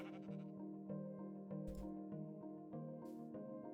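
Sheep bleating in the Minecraft Stoneblock modpack, a series of repeated nasal game bleats stacked over a steady looping in-game background, with brief bursts of noise between them.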